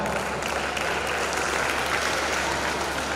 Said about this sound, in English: I think that deserves more clapping.